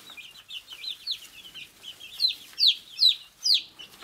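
Young Ameraucana chickens cluck and cheep nearby in a short irregular series of calls that grow louder toward the end.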